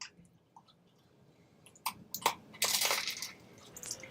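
Crunchy chewing in the Path of Exile 2 video game: quiet at first, then a few sharp crackling bites followed by a denser grinding crunch, moderately close, with no speech.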